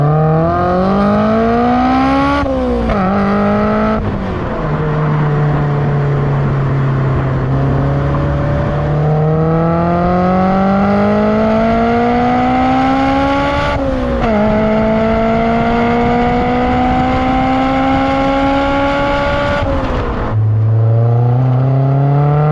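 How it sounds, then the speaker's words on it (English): A Honda S2000 fitted with a JDM HKS Hi Power exhaust revs and pulls through gears, its loud, raspy engine note climbing and dropping in several sweeping runs with sharp shift breaks, close and continuous. "get some exhaust clips of this thing"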